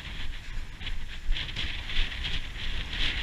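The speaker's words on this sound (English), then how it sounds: "It's very windy." Gusty wind buffeting outdoors on a walking route near Cockington, England: a steady rumble with hissing surges that rise and fall throughout, fairly loud and close to the microphone.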